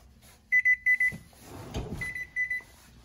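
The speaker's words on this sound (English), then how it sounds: "All right, so my timer's going off, so I'm gonna open the oven." A kitchen timer goes off during muffin baking, sounding a few rapid groups of high, shrill beeps, then a clattering handling noise, then another short run of beeps, all close and loud with no talking.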